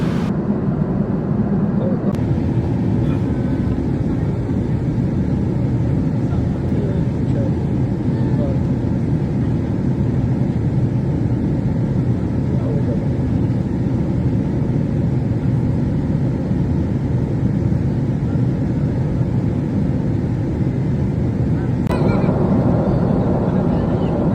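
Steady, loud airliner cabin roar during a long-haul flight, a constant broadband rumble and hiss that holds unchanged for the whole stretch, with brief clicks near the start and end.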